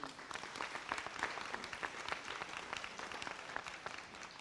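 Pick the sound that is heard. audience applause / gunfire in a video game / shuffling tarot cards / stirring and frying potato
audience applause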